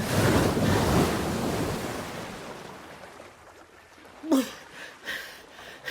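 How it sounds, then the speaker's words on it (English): Storm waves crash and surge with gusting wind at sea after a shipwreck, loud and roaring at first, then fading to a quieter wash broken by a few sharp splashes. "I swam, battling with huge waves."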